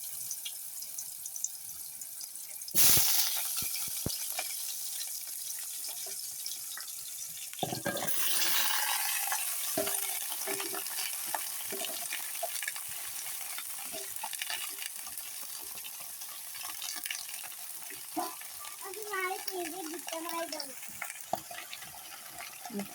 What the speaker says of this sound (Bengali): এবার তেলটা গরম হয়ে গেছে। এবার দিয়ে দিব রেসিপিগুলো।